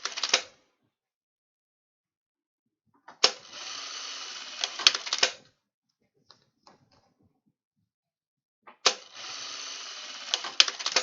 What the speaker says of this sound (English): Is the machine really loud? It's so loud for me.